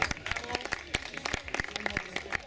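Audience claps for a prize winner at a farmers' day gathering, with a short burst of scattered, uneven applause close by and a voice speaking over it.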